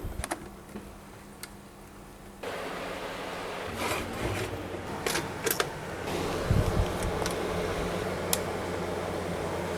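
An electric fan runs off a battery-powered inverter in a solar setup, its steady whirring hum rising partway through, with scattered light clicks and ticks nearby.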